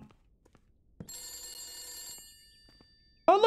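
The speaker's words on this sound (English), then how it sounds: "The phone sounds like it's right there" A telephone rings in the horror video game The Beast Inside, giving one sustained electronic trill at moderate distance inside a quiet room, followed by a sharper burst at the end.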